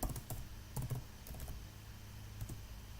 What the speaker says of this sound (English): when you type in the password, you cannot see it